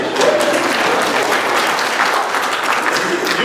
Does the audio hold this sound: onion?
no